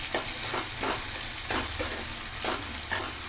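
Chili powder, salt and turmeric are stirred into hot oil in a sizzling pan for a taro and tamarind curry, with steady frying hiss and regular scraping strokes about every half second, close and clear.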